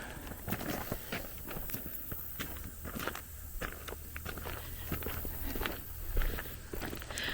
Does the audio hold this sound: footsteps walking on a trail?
yes